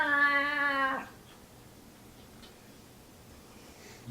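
A cat lets out one clear, fairly close meow lasting about a second, followed by quiet room tone.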